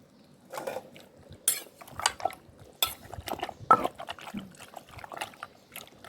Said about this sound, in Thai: โขลกเลยค่ะโขลกเลยค่ะโขลกเบาๆนะคะทุกคน เส้นใหญ่เขาจะได้แตกออกจากกันเนาะ